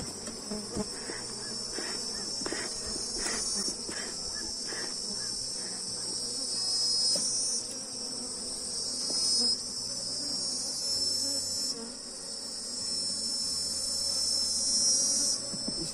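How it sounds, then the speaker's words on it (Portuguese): A strong honeybee colony buzzes inside an open hive, a dense, continuous drone of many wings close by, with the pitch wavering and swelling as individual bees fly past. "Mas é um enxame também que está bastante forte."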